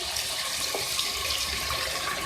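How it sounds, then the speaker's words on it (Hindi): Water is poured into a beef and potato curry (aloo gosht) as it cooks, making a steady, continuous splashing rush that lasts throughout with no talking. "तो अब मैं इसमें गलने के लिए पानी ऐड कर रही हूँ।"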